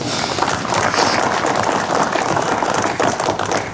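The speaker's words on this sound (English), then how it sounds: "give yourselves a round of applause" A dense, loud round of applause from a crowd, steady clapping filling the whole stretch without a break.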